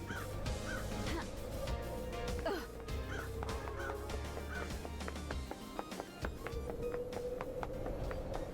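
Crows cawing in the video game Paradise Killer, repeated harsh caws scattered over a dense ambient game soundscape with a low hum, with no talk.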